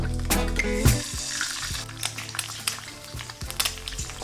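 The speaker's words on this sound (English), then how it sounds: "Alright, so I'm going to crack my egg open." An egg goes into a hot pan of sunflower oil, giving a near, steady sizzle and crackle with a few sharp pops and clinks from the pan, no voices.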